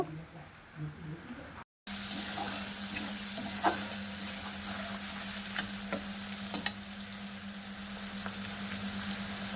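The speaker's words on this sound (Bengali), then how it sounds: "এবার পেঁয়াজটা বেশ ভালো করে লাল লাল করে ভাজা করে নেব" Chopped onions fry in a pan with a steady, close hiss that sets in after a brief quieter start and keeps going, with a few faint clinks and a low hum beneath.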